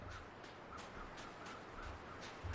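Birds in The Long Dark video game call in a steady series of short, evenly spaced chirps against soft outdoor ambience. The calls are faint and distant, and no one speaks.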